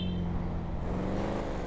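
A car in the video game GTA 5 accelerates, a steady mid-level engine drone that rises slightly in pitch as it speeds up, heard alone for under two seconds.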